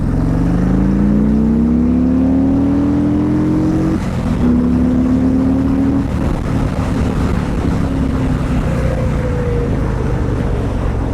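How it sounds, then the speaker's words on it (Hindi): A Harley-Davidson motorcycle engine with stock exhaust revs and accelerates loudly, pitch climbing through gears with brief shifts, wind rushing past as speed builds. "let's give it some throttle"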